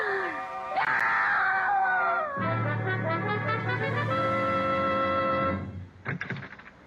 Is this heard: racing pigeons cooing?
no